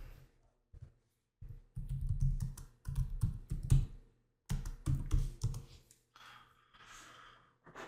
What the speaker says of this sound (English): So let's type in brick width 10.